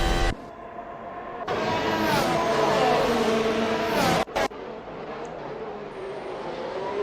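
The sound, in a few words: Formula 1 cars racing in video game Assetto Corsa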